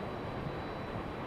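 A Frontier Airbus A320neo arriving at Raleigh-Durham airport, heard as a steady, broad jet roar that holds evenly throughout with no talk over it.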